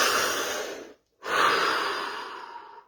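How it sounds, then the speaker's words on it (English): A slow, deep breath drawn in through the nose and released, each airy rush long and close, separated by a brief silent pause at the top of the breath. "Take a deep breath."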